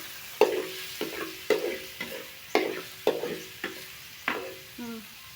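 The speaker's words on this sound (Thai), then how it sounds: "คนไห่หมูมันสุกเลยนั่นแหละน้องลิน" Pork fries in a pan on a home stove while it is stirred. About six sharp spatula scrapes come at a steady rhythm over a constant soft sizzle, heard close up with no talk.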